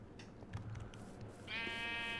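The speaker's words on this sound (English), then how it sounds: "Do I have these sheep everywhere?" Sheep bleat in the Minecraft modpack ATM9, a short wavering bleat rising near the end over a low steady game background, faint with no voices.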